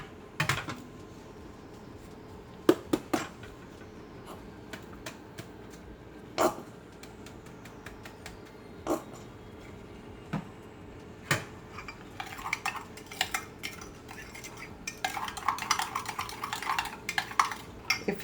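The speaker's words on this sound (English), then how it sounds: "we're gonna mix everything up" Meat loaf mixture with mustard being stirred in a bowl, with repeated clinks and scrapes of a utensil against the dish in an irregular rhythm, close by and with no talk.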